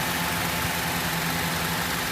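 A 2008 Honda CR-V 2.4 automatic engine idles steadily nearby, a constant low hum with a faint vibrating rumble and no other sounds.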